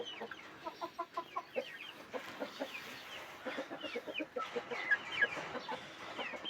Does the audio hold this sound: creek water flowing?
no